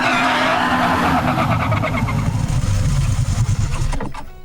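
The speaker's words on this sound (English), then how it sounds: "The purple 2004 Aztec slid into place in a shimmer of rhinestones and confidence" A purple 2004 Aztek car skidding into place, with a loud rushing tire and engine sound that sweeps and scrapes for about four seconds before cutting off.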